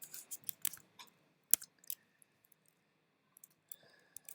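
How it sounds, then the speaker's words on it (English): Loud laptop keyboard being typed on during a live coding session, sharp clacking keystrokes in irregular bursts with pauses, close and alone without talk. "the keys on this laptop are super loud when I'm streaming"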